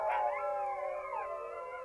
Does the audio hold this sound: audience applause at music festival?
no